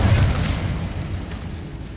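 The Incendio fire spell in Hogwarts Legacy lands as a loud, close burst of fire, a deep whooshing boom that starts strong and then rumbles and crackles away over about two seconds.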